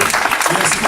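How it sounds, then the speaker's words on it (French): A church congregation at a Christmas celebration service applauds together, a dense, steady wash of clapping filling the whole second with a murmur of voices mixed in. "On applaudit le Seigneur pour sa présence."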